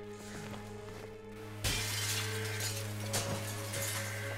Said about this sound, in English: Sound of shattering glass.